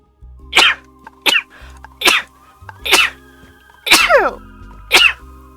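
Six loud sneezes close to the mic during gameplay of House Flipper 2, spaced about a second apart, each a sharp explosive burst with a short breathy lead-in.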